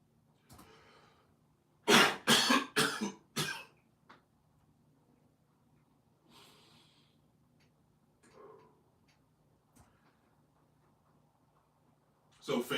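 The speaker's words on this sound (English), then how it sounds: "So Facebook and YouTube just got to see me cough." A man coughs several times in a rapid, loud cluster during a live sports podcast stream, followed by quieter breathing and throat sounds and then near silence, with a brief burst of talk at the end.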